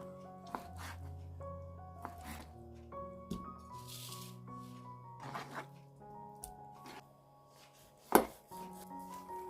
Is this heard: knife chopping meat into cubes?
yes